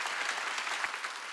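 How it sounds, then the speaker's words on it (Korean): A church congregation bursts into brief, dense applause during a Wednesday worship service, many hands clapping at once, close and steady for just over a second. "박수 치라 이거."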